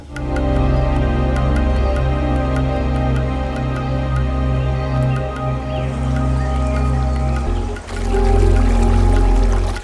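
Streams of water flowing steadily at Panchadarla temple, a continuous loud rushing and splashing that runs without pause.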